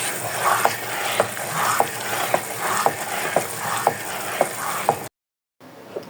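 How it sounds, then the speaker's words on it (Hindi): A spoon stirs thickening suji barfi mixture in a pan, rhythmic scraping strokes about every half second over a soft sizzle, close and alone, then a brief cut to near silence at the end. "और मुसलसल हम इसका चम्मच चलाते जाएंगे।"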